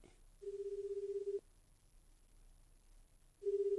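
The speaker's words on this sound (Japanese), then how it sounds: "リーダーに電話しちゃろ" A telephone rings back on an outgoing call, a steady electronic ringing tone buzzing for about a second, dropping to a quiet pause, then starting again; soft and alone with no talk.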